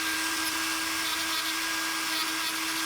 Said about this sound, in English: Let's actually just do that with the Dremel bit we got right now.